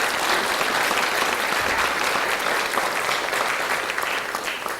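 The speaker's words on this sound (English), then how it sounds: "Let's give them a round of applause." Sustained applause from an audience at a public talk on climate change science and policy, a dense steady clatter of clapping hands filling the room for several seconds without a break.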